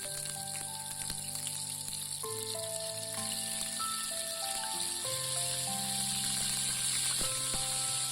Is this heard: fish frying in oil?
yes